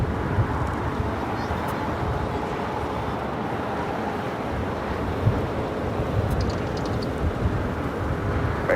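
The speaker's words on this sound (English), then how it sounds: "This is Lufthansa Flight 457 taking off to Frankfurt on the 747-8 Intercontinental" A Lufthansa Boeing 747-8 Intercontinental takes off at Los Angeles airport as a steady, broad jet roar with some wind buffeting, heard at a distance without any voices.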